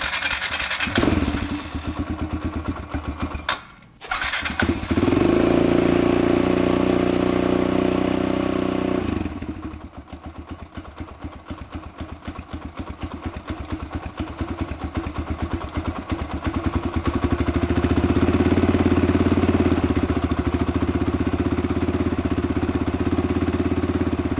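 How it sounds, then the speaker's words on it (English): A Kawasaki KLX 110L dirt bike engine idles roughly close by, its loud putter surging and dipping, briefly cutting out before picking back up into a steady, uneven idle. "that will adjust the idle of the bike and hopefully get it running a little bit smoother"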